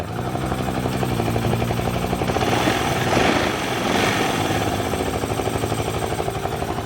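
A Kawasaki KSR Pro motorcycle engine idles with an even, low chugging rumble that holds throughout, close by and loud with no talking.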